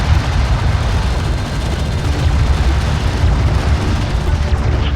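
Strike craft blowing up in the Homeworld: Deserts of Kharak strategy game, a loud, dense rumbling explosion that stays heavy and sustained throughout amid battle noise.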